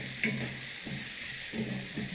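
Maggi noodle masala with salt and turmeric fries on a low flame, a soft continuous sizzle with a few gentle stirring scrapes, quiet and close, no voices.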